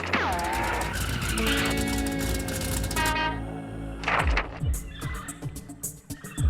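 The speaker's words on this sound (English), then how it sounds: "I journey by car to the Quezon province." Car journey by road to Quezon province in the Philippines, with loud, steady engine and tire noise throughout, tonal whines rising and falling, and a few brief sharper bursts near the end.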